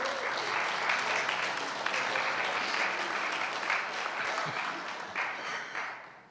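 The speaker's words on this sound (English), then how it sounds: "Let's have a round of applause for Kirtan." An audience at a kirtan festival in Rishikesh applauds, a full, sustained wash of clapping from many hands that holds steady before tapering off at the end.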